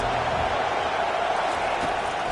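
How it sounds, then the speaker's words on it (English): A stadium crowd at a Gators college football game roars in a steady, dense wall of cheering as the defense takes the field. "Listen to this crowd just shaking the girders of this place, trying to help their defense."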